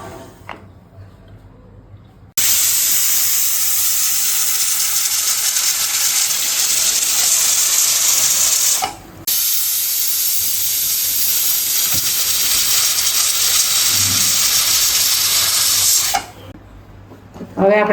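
A pressure cooker of potato curry lets out a loud, steady steam hiss that runs continuously for about fourteen seconds, with one brief dip midway, before cutting off abruptly and leaving quiet kitchen sounds.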